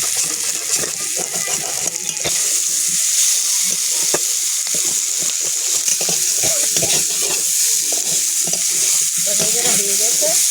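Vegetables sizzle loudly in a pan with shrimp, a dense continuous frying hiss broken by the scrape and clatter of stirring, close and steady throughout without talk.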